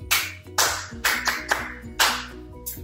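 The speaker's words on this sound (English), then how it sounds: "let's give ourselves a round of applause for being good boys and good girls throughout the week" Rhythmic bursts of clapping for a Sunday school lesson, loud and close, landing in a steady beat alongside low musical tones.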